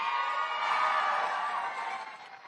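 A crowd at a political get-out-the-vote rally in Austin, Texas, cheers in a steady broad roar that swells and then fades toward the end, with no clear single voice above it.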